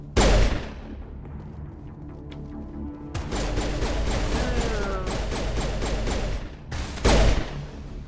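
Gunfire in the video game Mass Effect: sharp loud shots open the clip, followed by a sustained burst of rapid automatic fire and another heavy blast near the end, over a busy game soundscape.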